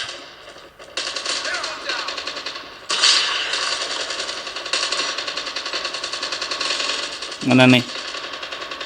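Rapid gunfire from the Call of Duty Mobile game plays on a Redmi K20 Pro phone, with dense automatic bursts and clattering shots lasting several seconds, while a player speaks briefly over it.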